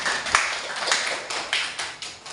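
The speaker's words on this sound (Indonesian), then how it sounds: "Tepuk tangan untuk Uli." A small classroom group claps for a student, a short burst of several distinct, fairly close hand claps in a loose, steady rhythm.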